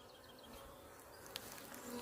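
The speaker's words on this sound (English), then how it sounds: "A bee's nest." Bees buzz around a nest beside a mountain hiking trail on the Pacific Crest Trail, a faint steady insect drone with a few brief closer passes, no talking.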